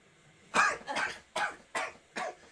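Five separate coughs from a person, fairly close and moderately loud, arriving in an uneven rhythm with short pauses between them, with no talking.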